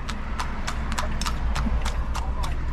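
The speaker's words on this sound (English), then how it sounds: "That's the horse cart" Horse pulling a cart along a road in Leonora, West Coast Demerara, Guyana, hooves clip-clopping in a steady close rhythm under street noise, with people talking nearby.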